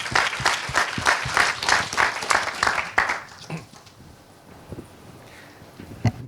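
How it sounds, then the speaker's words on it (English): An audience applauds at a digital business conference, rhythmic clapping that pulses together for about three seconds, then quickly dies away to a quiet room with a few stray sounds. "So give a warm round of applause for Simon."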